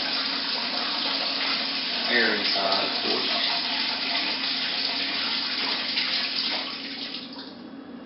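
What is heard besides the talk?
pouring a gallon of water for kit wine making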